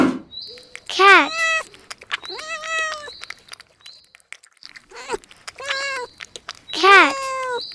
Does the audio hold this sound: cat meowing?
yes